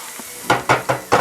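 Spam slices frying in a pan, four short bursts of sizzle a beat apart as the pieces are stirred or turned, close and crisp.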